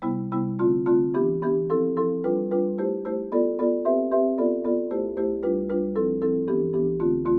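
Marimba plays rolled diatonic chords that step upward then back down within one key, each mallet stroke soft and rhythmic, ringing clearly with no voices.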